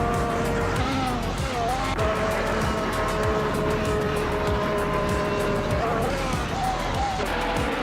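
A Toro Rosso TR12 Formula One car in a racing video game, its high-pitched engine whining steadily and shifting pitch through gear changes, with tires squealing and other cars roaring close by throughout.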